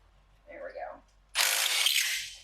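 An impact wrench loosens the top alternator bolt on a Honda S2000. A brief faint sound comes first, then a loud, steady burst of buzzing wrench noise lasting about a second.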